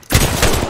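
Gunfire in Apex Legends: a short, close, loud burst of rapid overlapping shots under a second long, with no voices.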